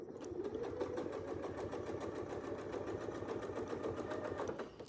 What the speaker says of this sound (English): but let's get sewing.